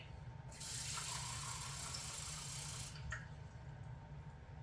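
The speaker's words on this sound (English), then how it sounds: "And now we need 2/3 cup of water." Water from a tap runs into a measuring cup in a home kitchen. It is a steady, close gush for about two seconds that then stops, with no talking.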